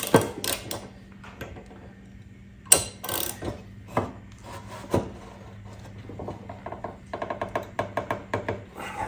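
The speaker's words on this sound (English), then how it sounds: "You're going to need a 15/16 inch socket in order to get this nut off" A 15/16-inch socket on a ratchet works at the blade nut of a John Deere 100 series mower, giving faint, close scraping clicks and irregular rubbing knocks, with a few sharper taps over a low steady hum.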